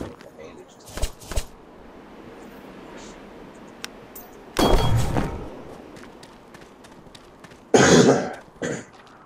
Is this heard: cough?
yes